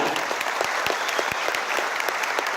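Applause from attendees at a FORKABI regional assembly in Jakarta: steady, close clapping with distinct individual claps standing out in an even rhythm, no voices on top.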